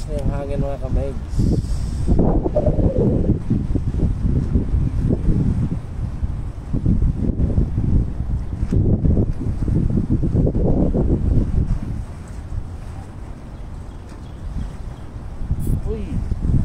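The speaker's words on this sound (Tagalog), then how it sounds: "Lakas na yung hangin mga kamigs." Strong wind blows outdoors during tenkara fishing with small shrimp bait, a steady loud rush buffeting the microphone for most of the span before easing slightly near the end.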